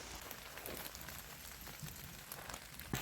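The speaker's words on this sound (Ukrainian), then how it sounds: "Дощ не збирається припинятися. Йде і йде." Rain falls steadily in an autumn forest, a soft, continuous patter of drops on leaves and ground, faint and even, with a few slightly closer drips near the end.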